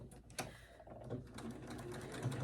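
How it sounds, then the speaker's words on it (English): A Handi Quilter longarm quilting machine stitches side seams of lining fabric for a tote bag, a quiet, steady mechanical whirr with a fast stitching rhythm close by, no talk. "I'm going to sew down the 2 side seams of this lining fabric to close those up."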